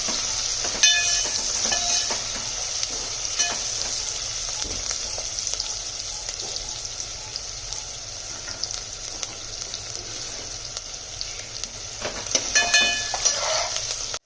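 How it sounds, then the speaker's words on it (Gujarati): Onion frying in hot oil in a pan while being stirred, a steady close sizzle running throughout with occasional scraping stir strokes near the start and end, with no speech. "હવે આપણે ડુંગળી એડ કરશું. ડુંગળીને થોડી આપણે હલાવી લઈશું."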